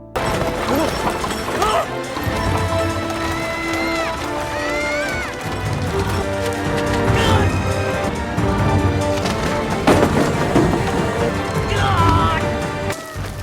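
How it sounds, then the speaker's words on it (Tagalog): A horse-drawn carriage crashes down a hill in a film scene, with dense, continuous rumbling, clattering impacts and hoofbeats mixed under dramatic music and a narrating voice. "Naging matindi ang habulan hanggang sa ang sinasakyan nila ay nahulog sa burol."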